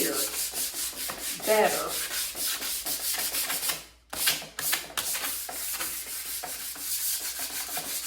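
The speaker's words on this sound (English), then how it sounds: "So I'm just lightly sanding it and it's going to help that spray paint adhere" Wooden furniture lightly sanded by hand before spray painting, a close, steady rhythmic scratching of strokes back and forth, briefly pausing midway before resuming, with a single short spoken word early on.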